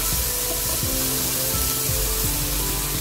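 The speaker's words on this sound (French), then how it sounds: "du lard en morceaux que j'ai fait cuire, pré-cuire on va dire, juste 10 minutes pour enlever l'excès de sel et que je vais ajouter pour faire revenir" Pre-cooked pieces of salt pork lardons sizzle and fry steadily in a pan, a close, continuous crackling hiss with a few faint clinks and no talk.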